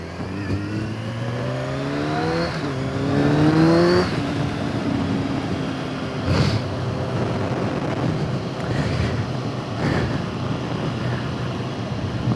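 A Kawasaki Z1000 motorcycle rides at speed, its engine droning steadily with rising and falling pitch as it accelerates, heavily buffeted by wind noise across the microphone throughout.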